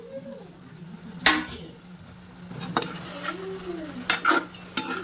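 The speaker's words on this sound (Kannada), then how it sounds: "ಇದನ್ನು ಚೆನ್ನಾಗಿ ಮಿಕ್ಸ್ ಮಾಡ್ಕೊಳ್ಳೋಣ" Onion gobi manchurian mixture stirred in a pan, with a spoon scraping and clinking against the metal in a few sharp knocks over a soft background sizzle, close up and without talk.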